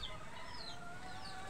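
Hens in a poultry yard clucking softly in a steady low chatter, faint and close, with no talking over them.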